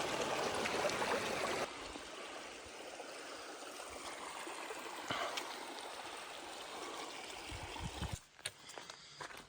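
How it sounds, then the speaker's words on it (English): Ice-cold snowmelt stream flowing in the mountains, a continuous close rush and trickle of water with a few faint knocks near the end. "Get a little refill in the stream here. That's fresh snow melt."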